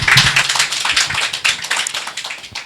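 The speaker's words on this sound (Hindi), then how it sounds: "एक अच्छी ताली बजाएं" A church congregation claps together in a dense, lively burst of applause that continues steadily and slowly thins toward the end.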